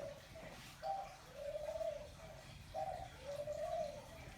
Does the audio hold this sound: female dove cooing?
yes